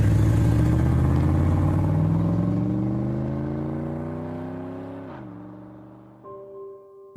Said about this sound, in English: He put the car in gear and roared off into the night.